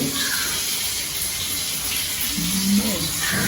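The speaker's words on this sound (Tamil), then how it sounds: "மீன் கறியை கொல கொல கொல கொலன்னு கொதிக்குதுன்னு" A pot of fish curry boils close by, with steady hissing and a busy bubbling simmer throughout.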